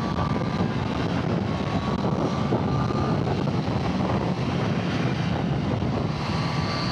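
A Triumph Street Triple R, its engine derived from the 675 Daytona, roars steadily while being ridden, mixed with constant wind rush and no talk.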